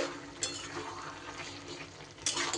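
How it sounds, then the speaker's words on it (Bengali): Spoon stirring an ash gourd curry in a pan, with soft scraping and a few sharper clinks of utensil against metal over a low sizzle. "নুন চিনি ভালো করে আবারও একটু সব কিছু মিশিয়ে নেব"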